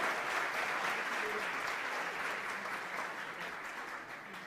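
Audience at a national high school patent competition award ceremony applauding a student called to the stage, a steady sustained crowd clapping that gradually fades slightly toward the end.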